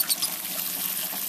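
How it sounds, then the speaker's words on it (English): Water running from a tap and poured over a bed of malt during sparging for a homebrewed Punk IPA-style real ale, a steady soft trickle and splash throughout, close and fairly quiet. "Time to start sparging. Here we go, let's turn on the water"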